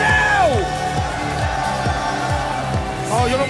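A studio crowd at a FIFA Online 3 esports match cheers and yells loudly, with shouting voices rising and falling throughout.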